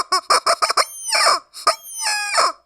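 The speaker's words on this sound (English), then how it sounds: "this is my fried rubber chicken that I got in the South" A rubber chicken toy, fried-chicken style, squawks in a run of loud, quick squeals, several short honks followed by longer drawn-out shrieks, close up with no talking.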